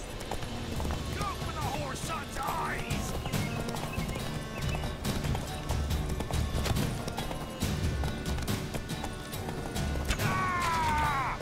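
Horse hooves clip-clopping at a gallop in the video game Witcher 3, a steady rapid rhythm with occasional whinnies, set in a busy game soundscape with background music and effects.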